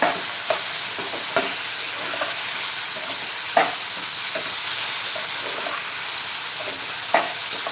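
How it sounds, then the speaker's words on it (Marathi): Vegetables for masale bhaat are stirred and sautéed in a hot pan, giving a continuous loud sizzle with periodic scraping strokes of the spoon, close and with no talk. "या भाज्या चांगल्या आपल्याला परतून घ्यायच्या आहे"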